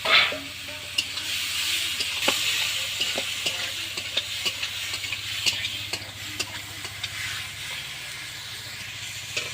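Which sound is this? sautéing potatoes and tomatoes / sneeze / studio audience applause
sautéing potatoes and tomatoes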